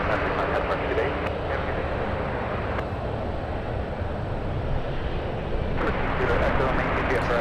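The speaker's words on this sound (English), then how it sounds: "United cleared for takeoff." A United Boeing 777 takes off at San Francisco, its jet engines a broad, steady roar with rumble that holds throughout, heard from a distance along with faint clicks, under intermittent talk.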